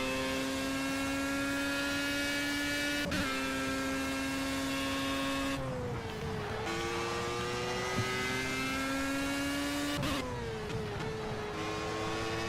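Formula race car engine in a racing video game, a steady high-pitched whine holding loud and constant, dropping sharply at gear shifts or braking around three, six and ten seconds before climbing again, with no talking.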